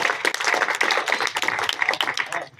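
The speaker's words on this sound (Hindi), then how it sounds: "ताली बजाओ सब" Scattered audience clapping at an outdoor Indian street magic show, a crowd applauding in uneven bursts with hand claps close by, loud and fairly steady before tapering off at the end.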